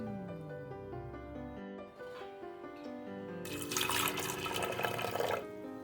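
Water is poured into a pressure cooker holding arhar dal for an Odia vegetarian lunch thali, a loud rushing splash lasting about two seconds over faint tonal background music, with no talking.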